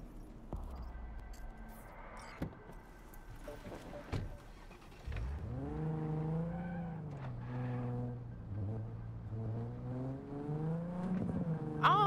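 A car drives in the video game Cyberpunk: after a quiet start, the engine catches and hums with a smooth, steady tone that swells and dips as it accelerates, heard fairly softly.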